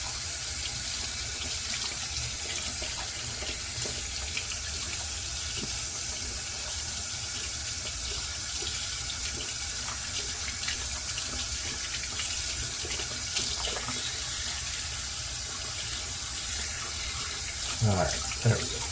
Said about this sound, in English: Let's rinse this tub off.